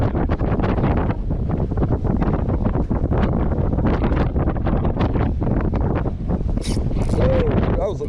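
Strong wind blows across a beach fishing pier in Pensacola, roaring steadily and buffeting the microphone without a break, with faint surf and movement underneath.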